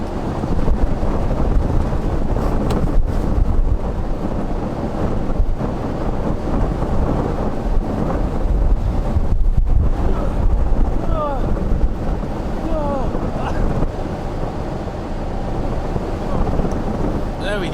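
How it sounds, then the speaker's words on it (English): Strong winter storm wind buffets the microphone in a steady, loud roar with low rumbling gusts throughout, outdoors during vanlife travel in Europe. "It's pretty windy."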